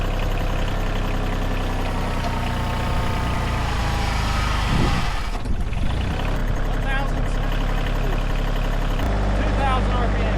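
Kioti CK/CX series tractor engine running steadily at about 1,000 RPM in low gear, a continuous close, loud mechanical drone with a brief disturbance midway.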